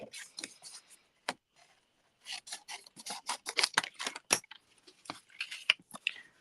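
Scissors snipping scraps of paper for card making, a close run of crisp short cutting snips in quick irregular clusters with brief pauses, fairly quiet and without talk.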